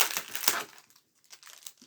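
Decorative paper for an Advent card being handled and crinkled up close, with short soft rustles and crackles, a brief pause, then more faint crinkling.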